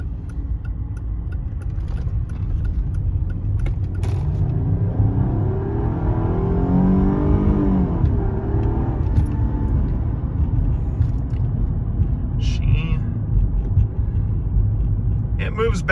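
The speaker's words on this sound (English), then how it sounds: "Chrysler's with its downshifting." A Chrysler car engine rumbles steadily and rises in pitch through a rev near the middle, with occasional ticks and clicks, heard close and continuous.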